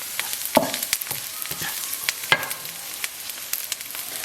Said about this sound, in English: we're going to stir this into the onions, and we're going to let it cook for another minute or so